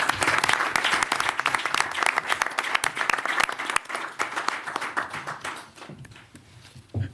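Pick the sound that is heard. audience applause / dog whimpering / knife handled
audience applause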